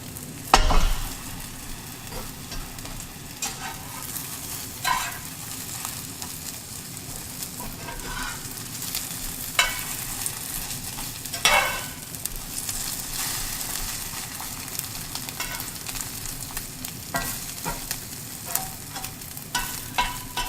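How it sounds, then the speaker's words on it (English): Omelette egg shifted around a frying pan with a spatula, a steady quiet sizzle under scattered scrapes and taps of the utensil against the pan, no voices. "I'm going to move it around a little bit so that any uncooked egg can go onto the sides."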